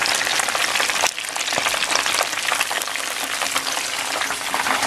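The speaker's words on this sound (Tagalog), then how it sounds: "i-check po natin itong ating pinipritong fried chicken" Steady, dense sizzling and crackling of Japanese-style fried chicken (karaage) deep-frying in hot oil, close up and continuous.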